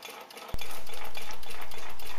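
Small Stirling engine with power piston and displacer running steadily close by, a continuous mechanical hum with light rhythmic ticking that starts abruptly after a brief quieter moment.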